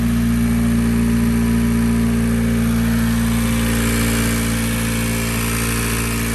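A 10th-gen Honda Civic Si engine fitted with MSD coils, freshly repaired after a head gasket job, runs steadily nearby with a constant loud droning hum and no talking.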